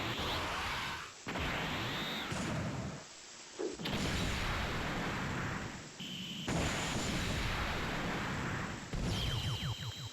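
Repeated explosive bursts from a rocket launcher in a Dragon Ball video game, loud and dense, coming in several blasts of a few seconds each with brief gaps between them.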